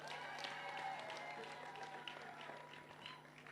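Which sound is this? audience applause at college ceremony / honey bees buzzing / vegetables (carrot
audience applause at college ceremony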